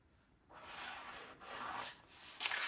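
A pen or pencil marks a shirt pattern in soft, steady scratchy strokes, heard very near and faint, with a brief pause between longer drawn lines.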